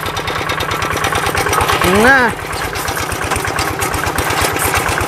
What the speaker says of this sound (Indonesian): Ini suara tanpa menggunakan silencer CJDW geng boy.